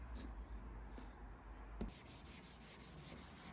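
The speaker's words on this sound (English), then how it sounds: "I'm sanding over everything here with a 240 grit" Wood being hand-sanded with 240 grit sandpaper, a soft steady rubbing hiss that turns into quicker back-and-forth strokes partway through, close by and fairly quiet.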